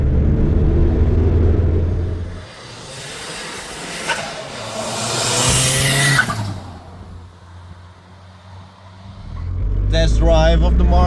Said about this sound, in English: Test drive of the Mark II.